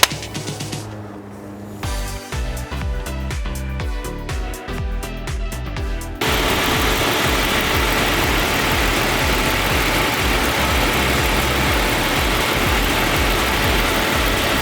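Jeep Cherokee 4.0 engine cranks and catches after a few seconds of clicking and clatter, then settles into a steady, close, even idle as it warms up, with no talking.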